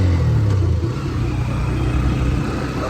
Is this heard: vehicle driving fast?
yes